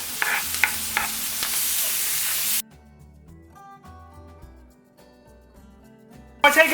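Onion hits a pan of melted butter over lowered heat, giving a loud hissing sizzle with stirring that drops suddenly to near quiet, then flares up again briefly at the end.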